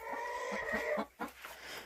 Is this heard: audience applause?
no